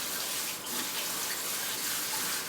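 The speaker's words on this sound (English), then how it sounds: "you want to have a sifter to be able to rinse your quinoa" Quinoa being rinsed in a sifter under a steady stream of running water, a continuous close splashing rush with no voices.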